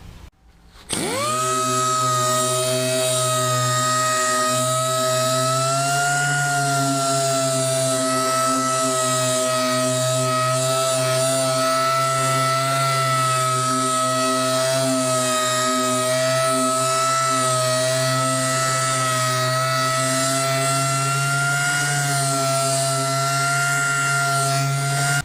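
Power sander fitted with a maroon Scotch-Brite pad on a car hood, starting abruptly and then whirring at a constant high-pitched tonal drone for over twenty seconds, close and alone.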